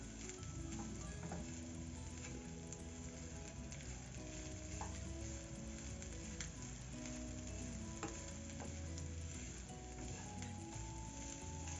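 Chopped onions and minced meat for a meat pie filling fry in a pan, a soft, steady sizzle heard quietly up close, with light stirring clinks and no speech.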